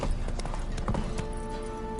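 Roach, Geralt's horse in The Witcher 3, gallops in a steady rhythm of close, loud hoofbeats over a dense game soundscape, with no talk.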